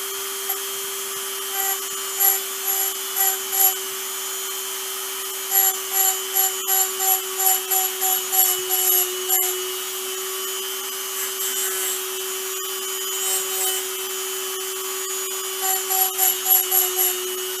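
A Dremel rotary tool runs nearby with a steady high whine while it cuts the teeth of a clock gear for a mantle clock repair. Short bursts of grinding come in uneven clusters over the constant hum.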